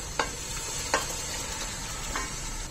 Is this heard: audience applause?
no